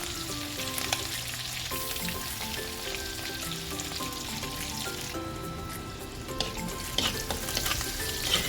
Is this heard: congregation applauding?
no